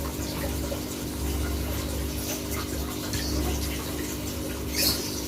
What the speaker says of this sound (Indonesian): Lalu tambahkan air hingga